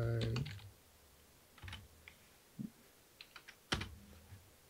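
Keys clatter on a computer keyboard in short, sparse bursts of close, light taps with gaps between them, while an earlier low hum fades out at the start.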